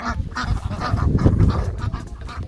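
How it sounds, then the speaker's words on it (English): Peking, buff, Welsh Harlequin and Cayuga ducks on a small farm, cleaning up at the end of the season; a flock quacks and honks continuously in a loud, close, busy chorus. "So the white ones are Peking ducks."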